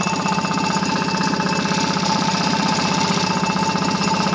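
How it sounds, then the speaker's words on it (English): A running 1940 Waterwitch 3/4 hp air-cooled outboard, model 571.34, fitted with a recoil starter, gives a steady, loud, rapid mechanical clatter with a metallic clanging rhythm throughout. "That noise that you may hear, which is a clanging noise, is a recoil"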